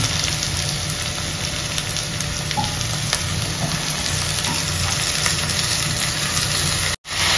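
Dill leaves hiss and crackle as they hit hot oil in a kadhai, a steady close sizzle running throughout with light stirring, then a brief cutout near the end.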